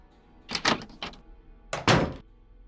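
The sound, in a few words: door closing in a video game (Nancy Drew)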